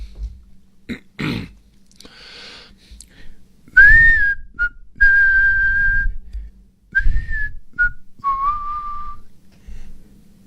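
A person whistles a short tune in several sustained, wavering notes, with a few coughs and throat sounds at the start, close and fairly loud.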